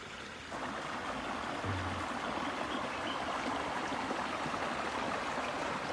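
A stream of water pours steadily over rocks, a heavy fall of water rushing and splashing without pause from start to finish, close and fairly loud.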